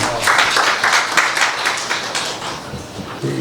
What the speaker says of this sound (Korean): 시장님을 큰 박수로 모시겠습니다.